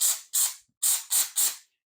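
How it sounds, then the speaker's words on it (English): A texture sprayer shoots ceiling texture onto cardboard in five quick, close hissing bursts: two, a brief pause, then three more. "what I like to do is just spray it because it's going to come out wet first"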